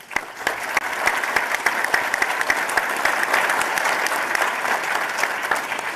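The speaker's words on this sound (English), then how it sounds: "Let's give her a round of applause." A conference audience applauds a Deputy Assistant Secretary of the Army after her introduction, giving a sustained, even round of many hands with crisp individual claps standing out throughout.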